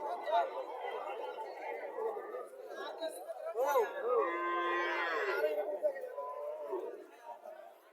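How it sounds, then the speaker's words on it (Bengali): Native cattle moo amid a crowd's chatter at a cattle fair in Chauddagram, Comilla, with one drawn-out bellow standing out mid-way over the steady murmur of people talking. "দেশি গরু"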